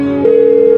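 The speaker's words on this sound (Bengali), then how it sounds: "আজকে একটা ফোন দেই।" A telephone call being placed gives a brief electronic tone that shifts pitch partway through and then holds steady, loud and close, with no talking.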